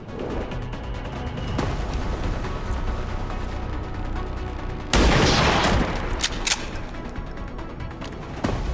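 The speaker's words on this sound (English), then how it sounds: "we'll just take the shot on the trooper" A sharpshooter's rifle shot in XCOM 2 cracks out sharply and loudly over a background of constant combat noise, followed by a trailing burst of debris and impact sound.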